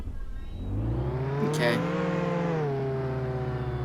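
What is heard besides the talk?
car engine revving in Roblox Jailbreak video game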